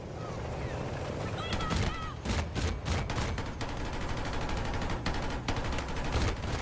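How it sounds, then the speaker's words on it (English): Rapid bursts of video game gunfire in a military shooter with a tank, loud broadband cracks repeating in clusters over a constant battle din, with a voice calling out amid the shooting. "Suppressing fire."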